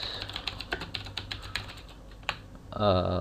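Rapid, close clicks of a computer keyboard being typed on during a game recording settings setup, irregular keystrokes for a few seconds before a brief louder tonal sound at the end.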